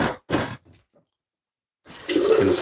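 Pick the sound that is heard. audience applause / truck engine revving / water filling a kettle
water filling a kettle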